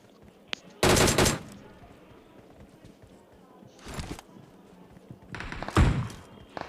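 Gunfire in the mobile battle-royale game PUBG Mobile: a loud, dense burst of rapid shots near the start, then quieter distant volleys and another strong burst toward the end, over low game ambience.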